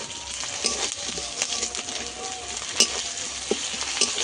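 Garlic paste and green chilies fry with onions in a pan for a spicy fish curry, a loud continuous sizzle broken by sharp scrapes and clinks of a spoon stirring, with no talking.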